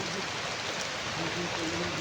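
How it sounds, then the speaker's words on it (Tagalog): Heavy rain pouring steadily, a dense continuous hiss of downpour close by with no pauses, filling the whole stretch evenly. "napakalakas ng ulan dito ngayon, kahit maulan"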